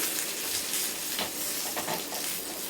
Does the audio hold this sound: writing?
no